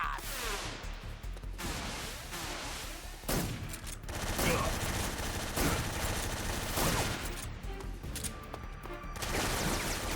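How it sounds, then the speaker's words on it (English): Rapid bursts of Tommy gun fire in Metal Gear Solid 3: Snake Eater, loud and dense, layered with clattering impacts and game sounds, with short pauses between volleys. "Tommy gun!"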